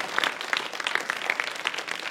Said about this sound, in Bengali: চমৎকার, জোরে হাততালি।